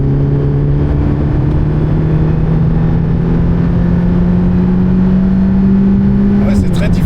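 A race car on the Spa-Francorchamps circuit accelerates, heard as a loud, steady engine drone that rises slowly in pitch, captured close from onboard.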